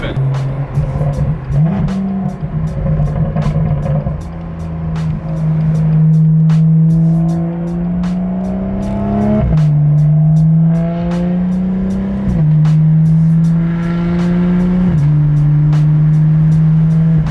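An M2 with a catless downpipe exhaust roars loudly up close, its engine note climbing repeatedly and dropping at each shift in a series of aggressive pulls, with people talking under it.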